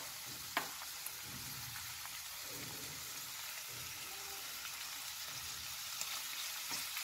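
Quiet, steady sizzling of spinach frying in a wok, with a few soft clinks and stirring sounds and no talking.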